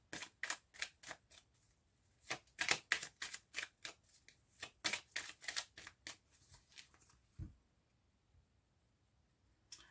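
Tarot cards being cut and shuffled, a quick run of crisp riffling flutters and snaps in rapid bursts with short pauses, close and clear, with no talking.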